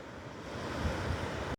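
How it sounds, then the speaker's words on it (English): Ocean waves break at a surfing beach late in the day, a continuous roaring wash of surf with wind noise on the microphone, steady and full before cutting off abruptly. "Really crazy waves."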